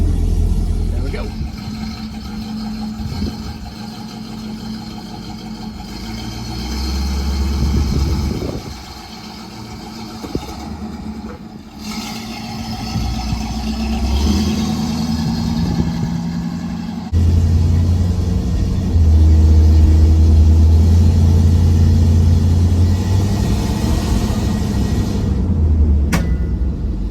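A restored 1968 Pontiac Firebird runs on its first drive after reassembly, its engine rumbling low and steady with occasional revs, heard from inside the car with a person talking over it.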